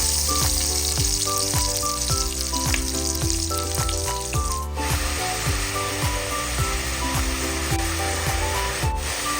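Garlic, onion, ginger and tomato sauté in a hot pan for mung bean stew, a steady loud sizzle throughout with repeated scraping strokes of a spatula, close up and without speech.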